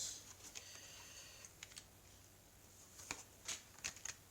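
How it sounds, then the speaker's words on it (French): Oracle cards being cut and spread across a table, faint papery shuffles and soft taps, a few sharper flicks clustered toward the end, with no talking. "je vais étaler les cartes, couper"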